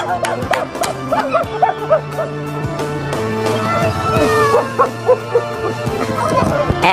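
A dog reunited with its owner after the car it was inside was stolen whimpers, yips and barks excitedly in short bursts, close and loud, over a bed of music.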